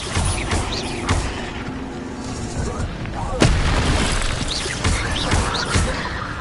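Expelliarmus spell effect in Hogwarts Legacy, a sharp blast followed by crackling, booming combat noise, with a voice talking over the steady rumble.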